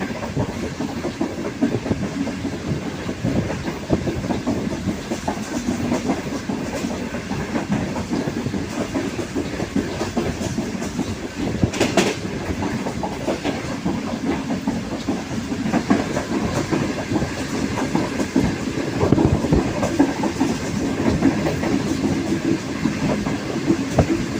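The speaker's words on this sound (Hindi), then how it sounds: "पहाड़ों के दरमियान से गुजरते हुए रेलगाड़ी बहुत खूबसूरत मंजर पेश कर रही है" An Awam Express passenger train hauled by an HGMU-30 diesel locomotive rolls steadily through mountains in Pakistan, with a continuous rumble and rhythmic clickety-clack of wheels on rails, heard from close by for the whole stretch.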